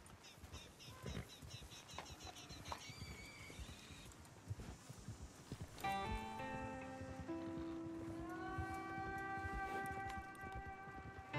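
Hooves of a horse pulling a wagon along a dirt track in the Red Dead Redemption II game, a soft rhythmic clip-clop at moderate distance, joined midway by sustained tonal music with some low creaking.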